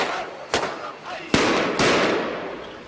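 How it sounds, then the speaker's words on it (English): Fireworks crack and boom over the town of Zabadani near Damascus, signalling an evening protest, with several sharp bursts and rumbling echoes over a noisy crowd-like background. "The fireworks were to tell people it was time for the evening protest."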